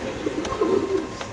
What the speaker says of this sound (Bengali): এখানে আছে দেখতে পাচ্ছেন এক জোড়া কবুতর